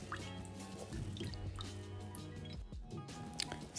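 Water pours and drips into palm nut concentrate in a cooking pot while making Delta-style banga rice with shrimps, a soft, faint, steady liquid trickle over a low background hum.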